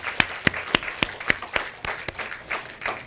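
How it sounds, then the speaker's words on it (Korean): A church congregation claps in praise, a fairly steady rhythmic series of about a dozen sharp claps, close and moderately loud, with no talking over them. "우리 하나님께 영광의 박수 한번 올릴까요?"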